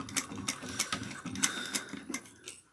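Sewing machine stitching a fabric sunglasses case, a close, quiet run of rapid mechanical needle clatter in an even rhythm with a few brief pauses.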